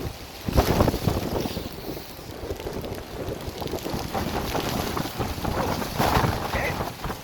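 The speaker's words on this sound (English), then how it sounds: "Alright, it's a lot more windy." Strong wind gusts buffet the microphone on the summit of Fansipan mountain after rain, a steady roaring rush with louder bursts near the start and end.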